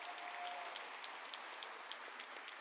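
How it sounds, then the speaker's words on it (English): Audience at a University of South Africa autumn graduation ceremony gives a round of applause, a steady, fairly faint patter of many hands clapping throughout. "Can you give those a round of applause?"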